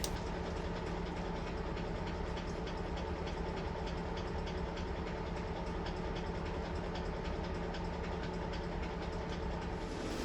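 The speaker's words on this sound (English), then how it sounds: "a long freight train is pulling into the loop line" A long model freight train on a model railway layout rumbles steadily with a continuous mechanical drone and faint rhythmic clatter, heard from a distance with no voices.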